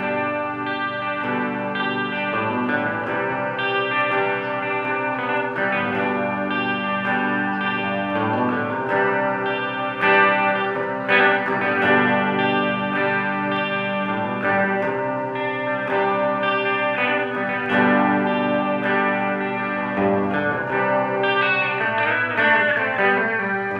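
A Kustom KG212FX guitar amp on its clean channel with reverb and chorus: steady electric guitar chords and melody ring out, shimmering and washed in effects, playing continuously at close range with no talking.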